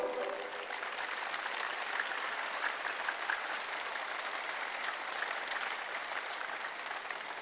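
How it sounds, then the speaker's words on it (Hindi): An audience at a spiritual talk on cow's ghee and yagya fire rituals bursts into sustained, dense applause, a steady wash of clapping from many hands that carries evenly for several seconds without voices. "जोरदार ताली ठोको"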